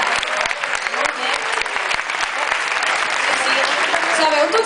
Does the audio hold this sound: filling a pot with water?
no